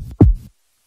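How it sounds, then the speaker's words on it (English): A cartoon heartbeat sound effect from Family Guy gives a single deep, muffled thump, followed by silence. "like John Goodman's heartbeat"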